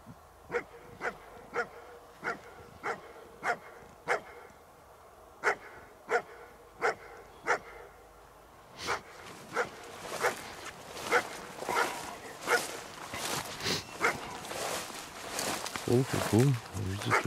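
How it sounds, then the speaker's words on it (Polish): A hunting dog bays at a wild boar during a boar and deer hunt in the Sudety mountains, a regular series of sharp distant barks that grows busier and more continuous, with rustling and breathing nearby. "Wie, już ma dzika. Tylko coś słabo szczeka."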